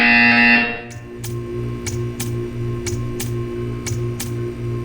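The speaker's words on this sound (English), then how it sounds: "You will hear a buzzer." A buzzer in the video game Portal 2 sounds in an art-viewing test: a loud sustained tone opening the clip, then a run of about nine short evenly spaced ticks or pulses over a low hum.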